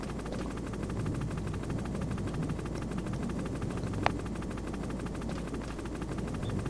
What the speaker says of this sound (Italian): c'è un elicottero, attacca